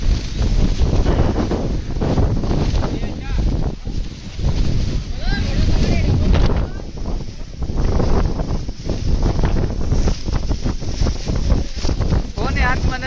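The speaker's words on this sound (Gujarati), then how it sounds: "બહુ પવન હાલે જોર જોરથી." Strong wind gusting at Saputara hill station, roaring steadily and buffeting the microphone throughout, with people talking over it.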